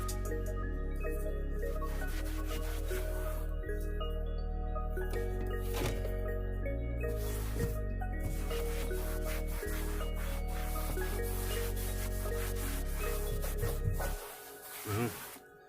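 A leather car seat is scrubbed with a steady, continuous rubbing and brushing that runs close and fairly loud over a constant tonal background hum, fading out at the very end.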